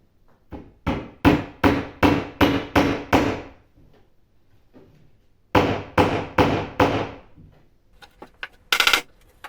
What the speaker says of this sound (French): j'ai enfin cloué tout le tour avec des clous tapissiers